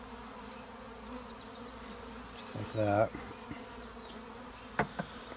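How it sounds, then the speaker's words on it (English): Honeybees buzzing in a dense, steady swarm while being installed into a top bar hive, with a brief spoken remark and a few soft knocks partway through. "next we have to dump all these bees into here"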